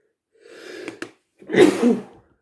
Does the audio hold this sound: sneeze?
yes